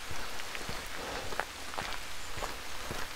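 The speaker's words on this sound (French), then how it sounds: "il commence à bien pleuvoir" Steady outdoor rain falls hard and close, a dense hiss with scattered louder drops striking a surface, building into a heavy shower with no speech.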